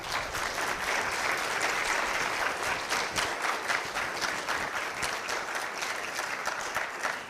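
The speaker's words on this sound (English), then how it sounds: "Give her a big round of applause." Steady, dense applause from a convocation audience fills the hall for a graduating mechanical engineering student, a sustained even wash of many hands clapping at a distance without a break.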